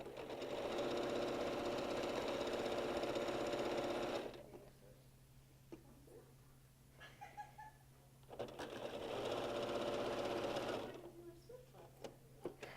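A sewing machine stitches a dinosaur-themed quilt in two long steady bursts of fast rhythmic whirring, separated by a quiet pause with faint handling sounds.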